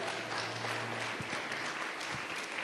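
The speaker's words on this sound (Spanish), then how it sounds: "¿Alguien le da palmas a Jesús?" Church congregation clapping for Jesus during a Spanish-language sermon, a dense, steady wash of applause that fills the whole stretch at moderate level, with a few scattered sharper claps standing out.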